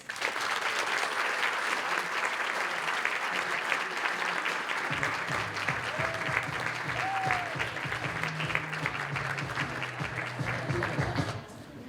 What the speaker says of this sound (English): Please help me in giving a huge round of applause